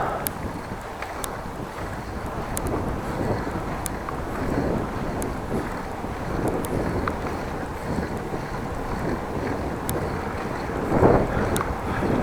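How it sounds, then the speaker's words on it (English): Headwind buffets an outdoor microphone on a ride through the countryside near Groningen, a continuous low rumbling roar with uneven gusts and a stronger blast near the end, with no voices. "And I'm having a headwind, by the way, now."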